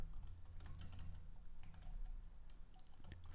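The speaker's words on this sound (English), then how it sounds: "I'll say ID will be forgot -password href" Rapid, light clicking from a computer keyboard as code is typed, heard close and quiet. Keystrokes come in irregular bursts with short pauses and no talking.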